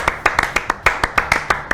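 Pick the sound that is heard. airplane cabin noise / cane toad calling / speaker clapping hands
speaker clapping hands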